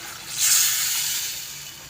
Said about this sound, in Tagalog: Tapos lalagyan na natin ng tubig.